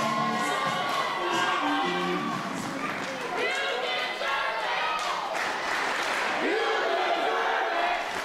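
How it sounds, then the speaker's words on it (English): A wrestling crowd at a TIW tag team championship match chants and cheers together, a loud, dense mass of voices filling the whole stretch with rhythmic swells. "Crowd chanting they deserve it."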